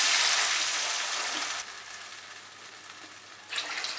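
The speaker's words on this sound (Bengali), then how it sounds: "1 মিনিট ফ্রাই করার পর আমি এর মধ্যে জল অ্যাড করছি।" Water poured into a pan of jujubes frying on a stove for Bengali kul chutney: a loud rushing, hissing pour that fades into softer sizzling, then a brief burst of splashing pour near the end, no voices.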